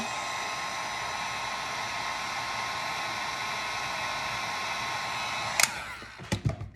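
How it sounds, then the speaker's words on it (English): Heat gun blowing steadily to shrink a sticker onto a tumbler, a constant close airy roar with an electrical whine that cuts off near the end, followed by a few sharp clicks and knocks. "So I put the sticker on there and then I hit it with the heat gun."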